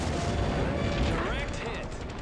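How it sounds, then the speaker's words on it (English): Heroes of the Pacific video game combat: a dense, loud wash of aircraft gunfire and explosions during a bombing run on ships, continuous and rumbling with a rising engine-like whine partway through, with voices speaking over it. "Commence bombing run."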